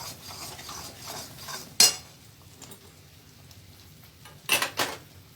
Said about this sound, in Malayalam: നന്നായിട്ട് കട്ടിയാകുന്നത് വരെ ഇളക്കിക്കൊണ്ടേ ഇരിക്കുക